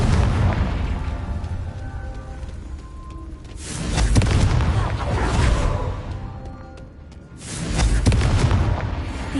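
A Confringo spell explodes in Hogwarts Legacy, with two heavy booming blasts a few seconds apart, each swelling and rumbling away, loud and close.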